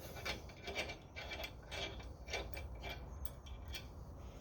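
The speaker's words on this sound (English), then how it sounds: "first thing to do is to remove these nuts at the pivot point on the factory guard" Nuts being loosened at the pivot point of a John Deere 2 Series factory grill guard, heard as a quiet, rhythmic series of ratchet clicks and metallic rubbing repeating about twice a second, close up with no talk.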